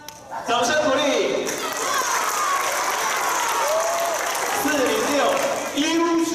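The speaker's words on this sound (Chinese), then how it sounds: "掌声鼓励。" Classroom audience of fourth-grade students applauding a school award, sustained crowd clapping with some cheering throughout, while voices talk over the clapping.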